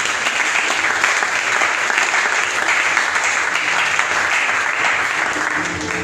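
A church congregation applauds the Lord in loud, sustained clapping that holds steady and dense for about six seconds, with no pauses.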